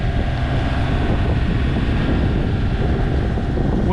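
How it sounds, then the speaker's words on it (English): Steady, dense wind rush and buffeting on a sailboat heading toward Catalina Harbor, a constant loud roar with no breaks or voices. "Wind's coming up."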